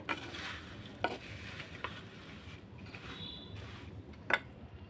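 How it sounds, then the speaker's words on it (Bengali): Puffed rice being stirred through nolen jaggery in a pan with the heat off, giving soft, steady scraping and rustling with a few sharp clinks of the spoon against the pan, close and fairly quiet. "গ্যাস বন্ধ করে দিয়ে আমি নাড়ছি এটা"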